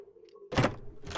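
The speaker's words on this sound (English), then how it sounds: "I'm standing in front of the door, but I still need to find the doorknob." A door opens in the audio game Blindscape with a soft low thunk and then a broad burst of handle and latch noise, close and clear over a faint background hum.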